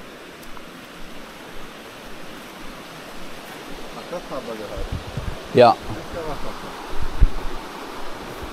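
A river in the Harz hills rushes with a steady, soft broadband hiss throughout, while a nearby voice speaks briefly and a few footsteps or knocks sound close by.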